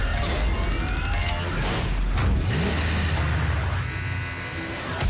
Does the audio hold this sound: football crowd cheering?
no